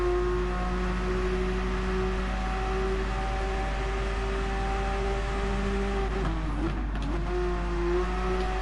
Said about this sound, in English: it wouldn't surprise me if this was a boxer engine